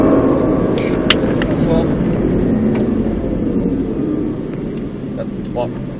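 A Nissan Skyline GTR accelerates hard on the Nogaro race circuit, its engine roaring loud and close from the cabin as a steady broadband drone for six seconds, while a driver speaks briefly over it.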